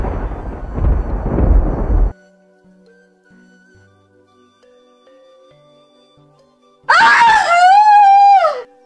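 A woman's loud, drawn-out scream with a wavering, falling pitch, ringing out alone in a bamboo garden after a stretch of near silence, preceded by a burst of heavy rumbling noise.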